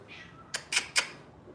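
A cat meows three times in quick succession, short and fairly close, with a quiet room around it.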